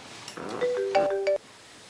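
An incoming call sets a phone ringing with a short melodic ringtone, a few bright rising notes played once at moderate volume in a quiet room.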